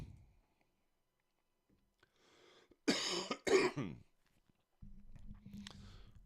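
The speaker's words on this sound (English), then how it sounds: "Excuse me, guys, for coughing in the phone or in the microphone" A couple of harsh throat-clearing coughs into a microphone, close and loud, between quiet stretches, followed by a low steady hum.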